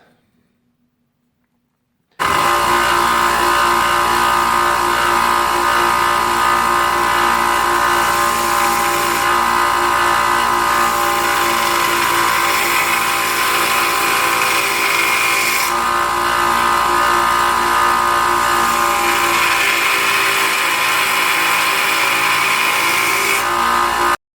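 A power grinder runs steadily and loudly while bevels are ground into a knife blade, a continuous whine with slight shifts in pitch as the steel is worked, following a moment of silence.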